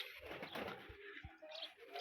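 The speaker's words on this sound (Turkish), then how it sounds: "Nihat Tosun'un da kuşları var içinde" Pigeons coo softly inside a coop, with low, rounded calls over a faint background rustle and a few soft thumps.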